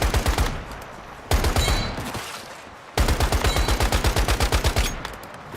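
Rapid bursts of video-game gunfire from Once Human, three strings of close, loud, evenly spaced shots with short gaps between them, the last burst longest.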